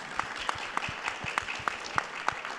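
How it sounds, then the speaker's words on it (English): An audience claps for a panel at a discussion event, a short burst of close, evenly paced hand claps over a soft background murmur. "Could we give them a round of applause"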